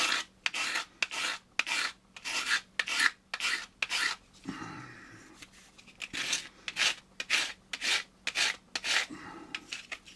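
Sandpaper rubbing a styrofoam ball for a Warhammer Age of Sigmar meteor model, close and quiet, in quick regular rasping strokes with a brief pause midway before the strokes resume.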